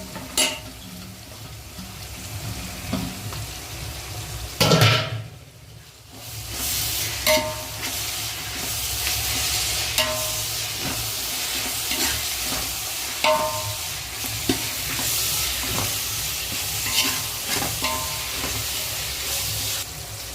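Tomatoes sauté in a pan for coconut milk rice, giving a soft continuous sizzle broken by intermittent stirring scrapes and utensil clinks against the pan.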